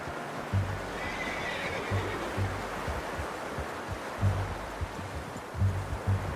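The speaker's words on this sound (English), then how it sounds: "How's that new horse?" A horse in the game Red Dead Redemption 2 neighs in a few short whinnying bursts over a steady bed of ambient outdoor noise, moderately close, with no talk.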